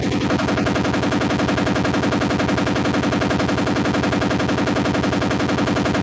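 Rapid machine-gun fire as a sound effect, a dense unbroken stream of sharp shots repeating quickly and evenly for several seconds, loud and close.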